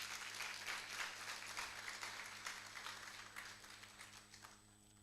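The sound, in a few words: applause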